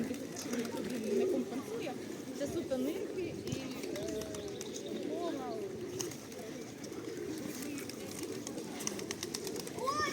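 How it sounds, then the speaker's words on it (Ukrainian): Pigeons coo softly and repeatedly, close by, in the resort town of Truskavets, while people talk in the background and outdoor noise carries on. "Голуби."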